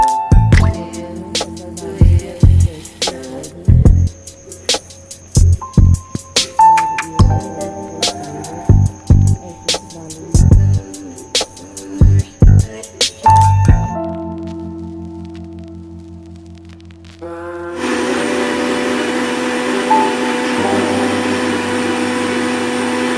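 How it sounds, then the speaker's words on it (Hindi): Mixer grinder whirring a jar of cooled milk for butterscotch mawa ice cream, loud motor bursts in short repeated pulses, then a pause, then one longer continuous whine, close and dominant with no talk. "अभी इसे एक मिक्सी के जार में डालकर चलाएंगे थोड़ी देर"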